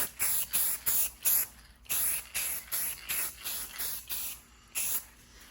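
Krylon all-in-one metallic dark metal spray paint hissing from an aerosol can in about a dozen short, close bursts with brief gaps between them, applied to an action figure base.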